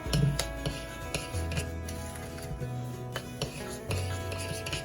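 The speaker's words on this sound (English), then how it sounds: "so you put that in there, and then you just stir it up" A spoon stirs a homemade body scrub mixture with solidified coconut oil, giving irregular scraping and clinking strokes against the container over a faint background hum.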